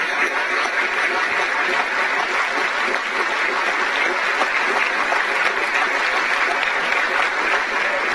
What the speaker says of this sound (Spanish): junto con ellos el aplauso agradecido